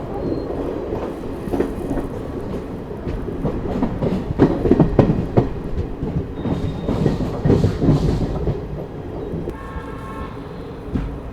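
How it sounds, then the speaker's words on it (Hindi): The Mussoorie Express rolls into Raiwala Junction on a foggy day, loud and close. Steady rumbling and clickety-clack of the wheels over the rail joints build and ease, with a brief tonal horn-like note near the end. "अपनी मसूरी एक्सप्रेस जो है रायवाला जंक्शन अराइव कर रही है"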